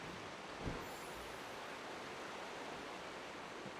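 Waterfall ambience in the video game Pokémon Scarlet, a continuous broadband rushing roar of falling water, steady and fairly soft throughout with no talk.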